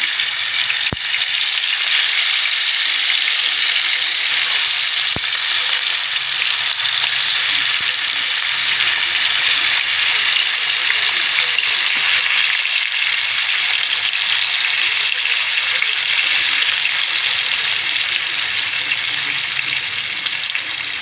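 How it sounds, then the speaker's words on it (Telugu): Pieces of food frying in hot oil give a steady, dense sizzle that runs unbroken and fairly loud throughout, with a few faint clicks and no talking. "ఇప్పుడు వేపుతున్నాను చూడండి. నూనె కాగింది,"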